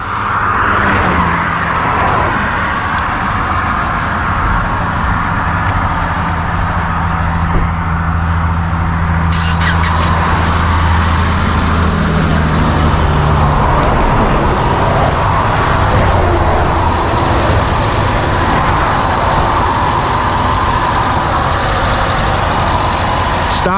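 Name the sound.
car engine started and running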